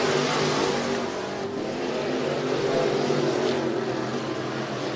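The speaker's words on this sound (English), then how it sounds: "Jordan Henry just turning hot lap last time around, trying to chase down Aaron Bloom" Dirt track race cars at Cottage Grove Speedway in Oregon roar continuously at full throttle, a loud, dense engine wash with no talking over it.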